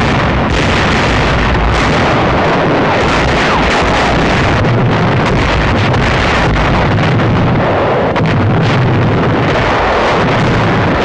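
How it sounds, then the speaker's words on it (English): Naval guns firing on Rendova shore installations in 1943 World War II film footage: dense, loud, continuous roaring blasts and rumbling bursts with no clear gaps between them. "Rendova shore installations come within range of our big naval guns."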